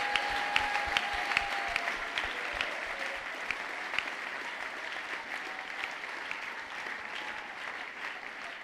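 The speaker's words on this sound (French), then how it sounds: "Acclamez très fort le Seigneur." A church congregation claps loudly and steadily, dense and continuous applause filling the room with a few sharper claps standing out, and little speech.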